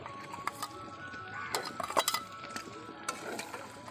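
Onion paste goes into meat cooking in a pot, heard as soft clinks and scraping stirs of a utensil against metal, scattered and fairly quiet over a low background hiss.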